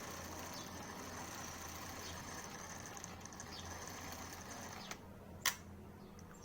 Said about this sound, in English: This is a spring motor.